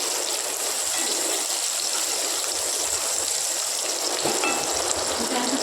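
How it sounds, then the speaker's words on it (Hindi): Chopped onions frying in a pan for Maharashtrian street-style misal pav, a steady broadband sizzle with occasional stirring, close and continuous throughout with no talking. "फिर प्याज डाल देंगे इसके अंदर और प्याज को थोड़ा सॉफ्ट करेंगे"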